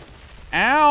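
A single sharp burst of gunfire from the action video game Wanted: Dead, loud and close, ringing out right after a quiet moment.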